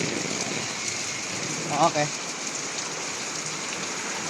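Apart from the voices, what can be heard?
rain falling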